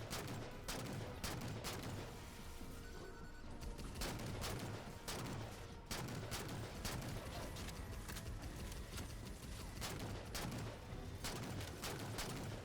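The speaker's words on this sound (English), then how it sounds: "It decided to shoot at the elite that I was shooting" Enemy gunfire in Halo 4, fast continuous bursts of shots crackling throughout, fairly faint and distant-sounding, with repeated sharp impacts and no talk over it.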